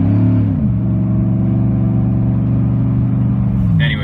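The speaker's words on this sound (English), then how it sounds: "There's the exhaust." A Chevy Silverado 4WD pickup's exhaust drones loudly under acceleration. A deep, steady engine note steps up in pitch early on, then holds a strong, sustained tone close to the listener, with no talking.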